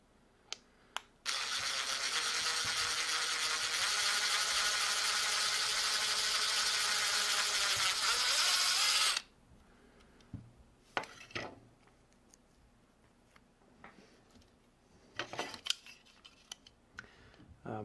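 A power drill bores screw holes for controller paddles using a small bit, running as one loud continuous whir for about eight seconds, then stopping, followed by scattered light clicks and handling knocks.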